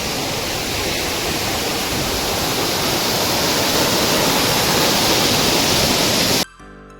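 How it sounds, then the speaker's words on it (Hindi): A mountain waterfall near Kedarnath pours down from above, a loud, steady, dense roar of rushing water filling the whole clip before cutting off abruptly at the end. "देखिए जो झरना ऊपर से जो बह रहा है कितना ही खूबसूरत लग रहा है।"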